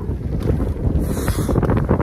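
Strong wind buffets a microphone outdoors on a cold route toward the Arctic, a loud continuous roar with gusting surges and no talk.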